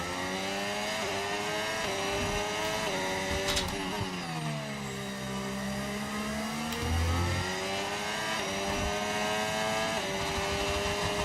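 F1 race car engine in the F1 25 video game, a loud, continuous high-revving whine with pitch sweeping down and up through gear changes and braking, close and steady throughout.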